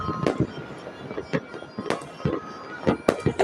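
Fireworks bursting over houses in Baguio, with a series of sharp, fairly close pops and crackles at irregular intervals over a dull background, and no talking.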